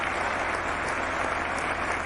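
A recorded applause sound effect plays during a Spitfire flight from Lands End to RAF Boscombe Down, a dense, uniform crowd clapping over a constant low engine drone.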